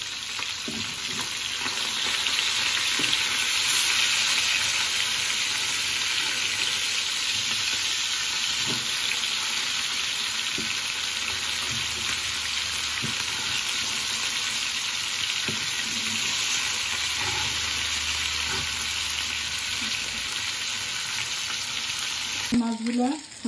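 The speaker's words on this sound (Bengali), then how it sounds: "মাছগুলো এখন আমি উল্টে দিচ্ছি।" Hilsa fish pieces frying in oil in a pan after being flipped, giving a loud, continuous sizzle with occasional spatter pops and soft utensil knocks, a sharper clatter near the end, no talk.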